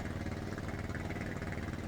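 An old Polish tractor engine runs steadily in Farming Simulator 19, a continuous dense mechanical rumble with an even, unbroken drone throughout.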